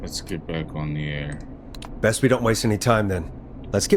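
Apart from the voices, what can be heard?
None of the usual background noises is heard.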